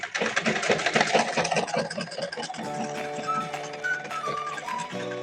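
Sewing machine stitching a blouse seam, a quick rhythmic clatter up close that settles into a steadier hum with a few faint tonal squeaks.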